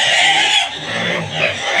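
Hungry farm pigs squeal and grunt noisily at feeding time, a dense, loud and close chorus that continues without a break and has no talk over it.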